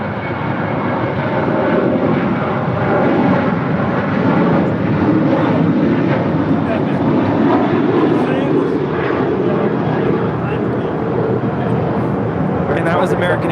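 An ITA Airways airliner departing for Rome roars steadily at close range, a continuous broadband jet engine rumble holding loud and even throughout with no talk over it.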